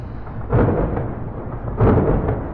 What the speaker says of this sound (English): Maybe we can outrun this wicked-ass storm.